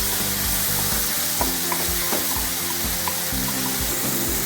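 Chopped tomatoes, cumin seeds, chili and spices fry in hot ghee in a pan, giving a loud continuous sizzle close by. A spoon scrapes and stirs the pan in a steady rhythm throughout.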